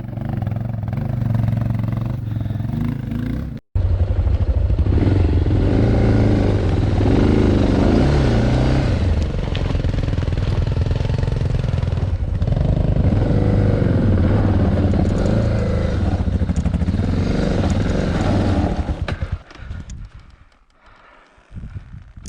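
An off-road motorcycle engine revs hard with the throttle opened during a rough mountain trail ride in Romania, loud and close, sustained with rising and falling strain and some clatter, while people shout encouragement.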